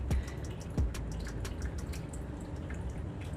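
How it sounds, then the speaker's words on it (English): Melted melt-and-pour soap trickles and drips into a mold, with a couple of sharper drops against a steady faint liquid hiss, close and quiet with no talk. "now I'm going to add more the Melt and Pour soap"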